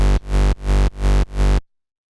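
Sharp hardcore rave bass synth patch built in Harmor, four loud sustained buzzing notes of about a third of a second each, separated by brief dips, then abrupt silence.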